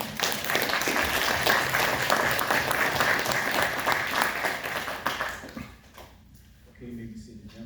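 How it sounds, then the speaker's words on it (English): A crowd at a panel on Philadelphia wall writers breaks into applause, thick continuous clapping for about five seconds before it fades and a voice speaks over the quieting room. "let's give it a applause"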